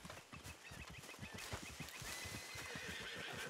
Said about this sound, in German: Jetzt können wir auch unser Pferdchen wieder rufen.